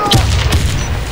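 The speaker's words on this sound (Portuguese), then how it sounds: "Lançando granada!" A deep, booming grenade blast from the Warface shooter game, loud and close, with a heavy low rumble filling the short moment and a brief sharp crack near the start.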